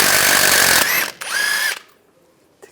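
A power tool with an 18mm socket spins off a nut on the driver's side differential bracket of a 2007-2013 Chevrolet Silverado, two close, loud whirring bursts with a brief pause between them.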